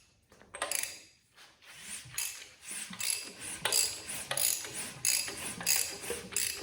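A Ford 408 engine being turned over by hand to watch a rocker arm on its valve tip, giving a steady series of close ratcheting clicks from a wrench, repeating in a rhythmic cadence.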